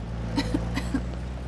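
A few short, muffled throat sounds, like light coughs, over a steady low background hum; no speech.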